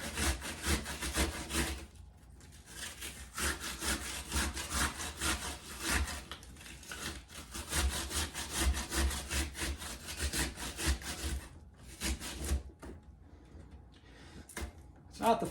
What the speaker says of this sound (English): It's not the funnest way to grate or shred an onion, but it's effective.